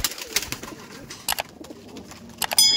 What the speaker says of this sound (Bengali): নানা রকম প্রজাতির পায়রা আছে যেগুলো অনেক ডিমান্ডেবল পায়রা